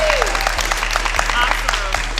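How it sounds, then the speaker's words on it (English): Workshop audience at a financial literacy event giving a round of applause, steady crowd clapping under a low electrical hum and a faint whistle, heard alone without talk. "can we all give a big round of applause for you for showing up?"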